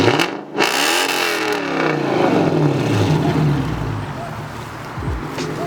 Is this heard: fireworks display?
no